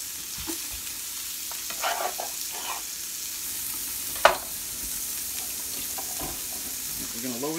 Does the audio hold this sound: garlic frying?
yes